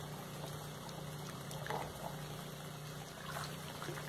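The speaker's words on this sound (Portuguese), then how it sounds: "mais 4 litros de água fervendo." Boiling water is poured into a thickening homemade liquid soap mixture, a continuous close pouring and splashing that runs steadily for a few seconds over a faint background hum.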